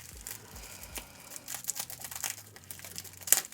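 Scissors snip and crinkle through the plastic wrapping of a vintage Polly Pocket collectible package, a string of close, papery cuts and rustles with a sharper crackle near the end, no voices.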